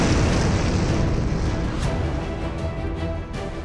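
A series of explosions in a Syrian strike zone rolls into one continuous, heavy rumble with dense low booms and roaring noise, loud throughout and fading slightly toward the end.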